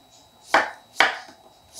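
A knife slices a peeled cucumber on a bias with three crisp, evenly spaced thuds on a cutting board, loud and close, with nothing else around them.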